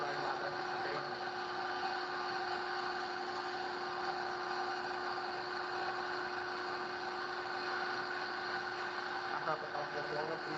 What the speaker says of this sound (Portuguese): o motor logo vai parar numa rampa de desaceleração regularizada anteriormente